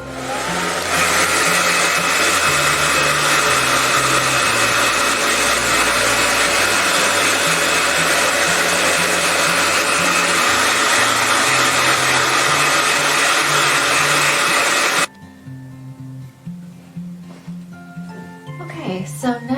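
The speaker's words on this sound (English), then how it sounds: "I'm just going to go ahead and use a hair dryer." Hair dryer on its cold setting blowing over a drying children's toothbrush-holder craft, a loud steady whoosh for about fifteen seconds before it cuts off, leaving faint handling sounds.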